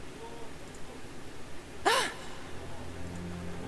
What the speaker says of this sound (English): That's a gasp loud enough to be heard anywhere.